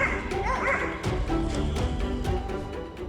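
Several large guard dogs bark and yip in a loud, dense tangle of overlapping yaps and whimpers, close and continuous for a few seconds.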